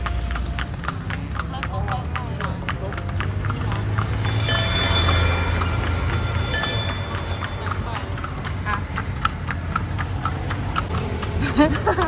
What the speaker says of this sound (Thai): ตอนนี้เรามานั่งรถม้านะคะ